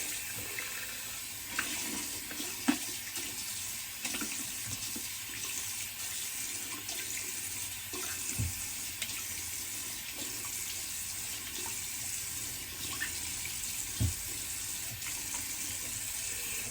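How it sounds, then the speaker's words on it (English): Cold water runs steadily from a bathroom tap for a post-shave rinse, a continuous hiss with faint splashes and occasional soft knocks as hands move under the stream. "Now cold water rinse."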